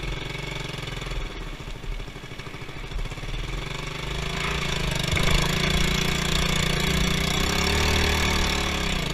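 A motorcycle engine idles steadily on a dirt road along the BR-319 in Amazonas, Brazil, with a continuous close rumble that grows slightly louder partway through and never stops.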